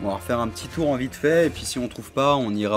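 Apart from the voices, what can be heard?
No everyday noises stand out.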